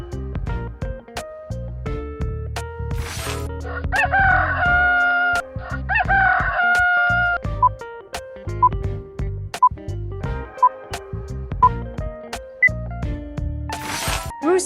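A rooster crows twice in a row, loud and close, with each call rising and then drawn out, followed by a few short, scattered clucking notes over farmyard background noise.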